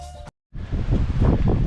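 Strong wind buffets an outdoor camping spot in Western Australia, a loud rushing roar with microphone rumble after a brief cut, briefly at first behind a voice.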